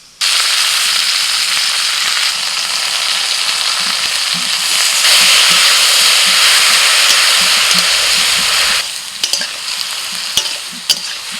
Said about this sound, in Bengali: পেঁয়াজ আর আলু একটু ভেজে নিয়ে এবার দিয়ে দিচ্ছি পেঁয়াজ পাতা